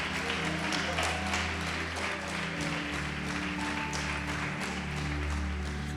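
Church audience applauding during a sermon, a steady moderate patter of clapping throughout, mixed with background hum and faint voices.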